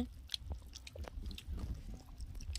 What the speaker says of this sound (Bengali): এই যে ওলকপি দিয়ে আলু দিয়ে মাছের ঝোলটা খাচ্ছি।